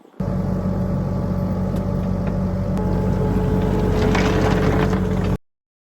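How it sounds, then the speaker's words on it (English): A skid steer loader's engine runs at a steady, loud, close drone while moving gravel, holding an even hum for about five seconds before cutting off abruptly. "moving 3 loads of gravel to the back with the skid steer"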